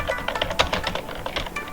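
Close, rapid tapping on a computer keyboard as code is typed, an uneven run of crisp key clicks with no speech.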